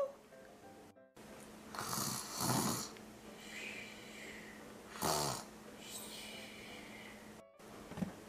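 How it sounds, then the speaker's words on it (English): An Elsa doll toy gives a snoring sound, with slow rhythmic breathy snores rising and falling several times, fairly quiet, with a few brief pauses between. "Oh my gosh, Elsa is actually sleeping and snoring too."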